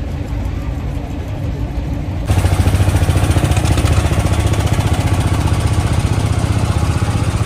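A motor boat engine runs steadily on a trip toward the Sundarbans from the Mongla ferry ghat, a throbbing, pulsing chug that jumps noticeably louder after about two seconds and stays close and constant.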